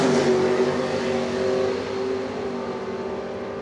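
A drag-strip car, a 1970 Chevrolet Chevelle, roars loudly at launch and then fades as it pulls away into a sustained, receding engine drone.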